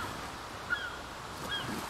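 Seagulls in the video game Lost Ark give two faint, short honking calls over a steady wash of surf and wind.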